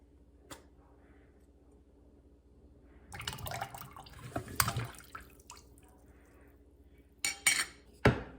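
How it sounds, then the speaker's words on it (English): A spoon stirs juice in a glass: a few light clinks and scrapes against the glass after a quiet start, then some sharper taps near the end, all fairly faint and close, with no talking. "now I'm going to mix my juice"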